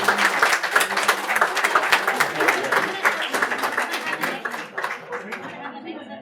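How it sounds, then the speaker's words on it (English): Applause and clapping from a crowd at a city council meeting, steady and dense throughout, with some chatter mixed in and fading slightly toward the end. "Give them a big round of applause."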